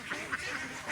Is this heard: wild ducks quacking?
yes